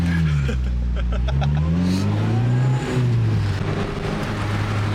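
A Honda Civic EK9 Type R engine revs in second gear, loud and close, with the pitch climbing and falling through several sweeps before settling into a steady drone.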